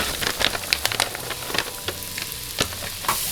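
Bacon, about half a cup, sizzles and crackles steadily in a frying pan, with dense popping spatters throughout and no talking.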